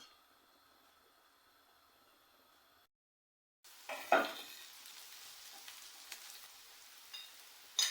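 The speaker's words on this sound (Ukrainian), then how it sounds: "Наша цибуля піджарилась." Oil sizzling and crackling as onions fry in a pan with occasional stirring scrapes, a steady frying hiss after a brief silence.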